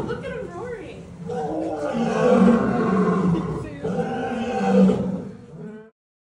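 A big cat at the zoo gives a long series of deep, loud roars that swell and fade, with people talking over them.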